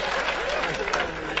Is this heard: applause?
yes